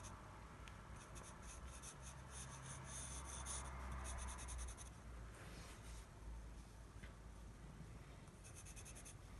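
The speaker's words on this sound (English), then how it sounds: "I've been drawing with these carpenter pencils." Quiet, steady scratching of a carpenter pencil across paper, with faster strokes partway through, close up and alone.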